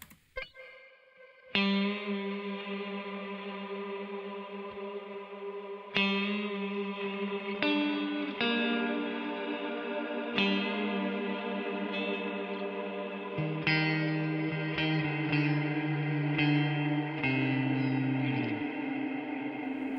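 Sustained electric guitar chords through a shimmer-like reverb plugin chain including Universal Audio RealVerb, a long tail blurring each new strum into a glassy wash of lingering tones.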